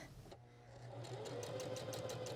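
A sewing machine stitches a hem, starting up after a brief lull and running in a steady, close mechanical whir with a fast needle rhythm and no voices.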